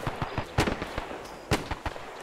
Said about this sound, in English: If you got a grenade, take them out.